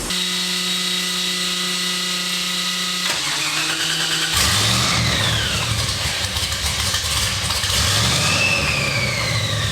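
A supercharged LSX V8 in a C10 truck on a dyno goes from a steady idle hum to a loud, sustained full-throttle roar with rising supercharger whine, close and powerful, with no voices.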